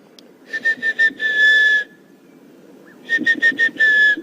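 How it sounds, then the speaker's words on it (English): A sulphur-breasted bush shrike calls in two bursts of clear whistled notes, a series of short repeated tones followed by a longer sustained one, somewhat distant, carrying over a low background rumble. "I've actually just heard the sulphur-breasted bush shrike calling now."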